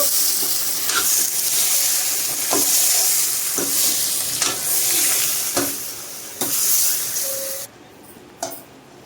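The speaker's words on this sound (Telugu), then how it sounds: "లావు ఉప్పు పసుపు వేసిన తర్వాత ఒకసారి బాగా కలిపేద్దాము." Spoon strokes scrape and clatter against a frying pan as chicken with salt and turmeric is stirred over a steady, loud sizzle of frying, with irregular knocks spaced a second or so apart; no voices.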